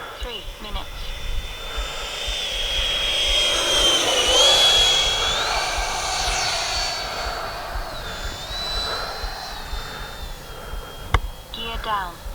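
A Freewing F-22 radio-controlled jet flies at about half throttle, its ducted-fan whine rising and falling in pitch as it passes overhead, with a sharp click near the end and someone talking over the engine.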